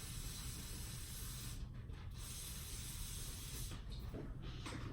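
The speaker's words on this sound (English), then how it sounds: "I'm just going to blast inside this bearing and make sure that all the brake cleaner that's coming out of it" Brake cleaner sprayed into a bearing, a steady close hiss of aerosol that runs continuously with brief dips, no talk over it.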